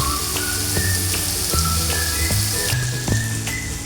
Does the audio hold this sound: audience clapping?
no